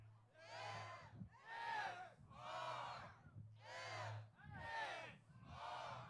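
A crowd at a Bassmaster Elite bass fishing tournament on the St. Johns River in Palatka, Florida shouts single letters on cue, six loud unison bursts with short pauses between them, a single voice speaking in the gaps.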